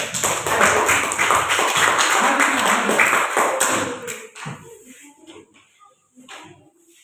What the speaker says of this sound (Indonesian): Tepuk tangan dulu untuk Gabriel